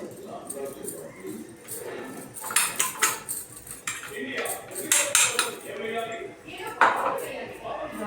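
A metal spoon scrapes and clinks against a cooking pot as spice powder and cashews are mixed in, making irregular close clatter under a person talking.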